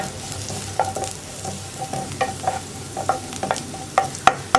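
Dried shrimp and ridge gourd stir-frying in a pan, a steady low sizzle broken by repeated sharp scrapes and clacks of a spoon stirring, close and moderately loud with no talk.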